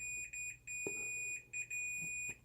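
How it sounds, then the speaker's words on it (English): An electronic continuity tester beeps in repeated short and longer high-pitched tones while its probes touch the top connector pins of a Dalrc Engine BL32 4-in-1 3-5S ESC, with faint handling clicks beneath. "You hear it's beeping."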